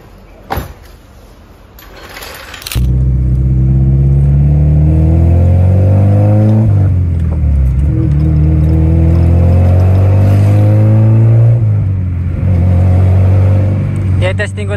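A 1999 Honda Civic SiR with a VTEC engine, on a test drive after timing belt and tensioner bearing work, starts and revs loudly, pitch climbing and falling through several pulls as a person talks over it.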